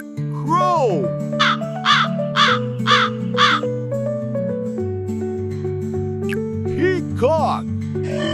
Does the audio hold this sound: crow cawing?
yes